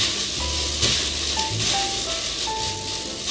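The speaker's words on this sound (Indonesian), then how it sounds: "kita potong kecil-kecil aja ayamnya, jadi biar pakai dia bisa terendam dengan minyak yang nggak terlalu banyak" Small chicken pieces fry in a shallow layer of oil, giving a steady, close crackling sizzle with faint pops throughout.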